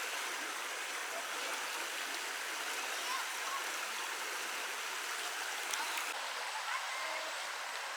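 A stream flows in Cataloochee Valley in the Great Smoky Mountains in fall, a steady broadband rush of water that stays even and unbroken throughout, moderately faint, with no voices.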